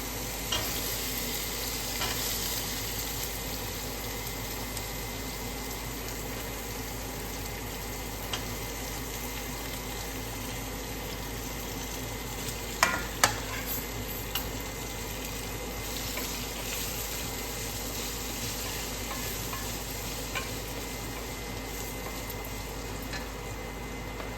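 Onions frying in a pan with a little green chilli paste, a steady broadband sizzle with faint stirring that runs continuously throughout, joined by a couple of brief utensil clinks near the middle.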